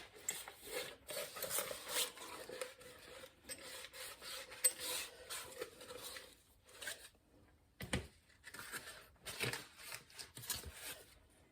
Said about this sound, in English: Grease your jars with whatever your preferred method is. I'm quite happy to use butter wrappers.